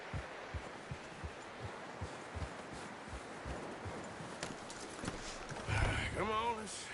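Horse hooves clip-clop in steady, evenly spaced beats through a Red Dead Redemption 2 camp scene, moderately near, with a voice talking briefly near the end.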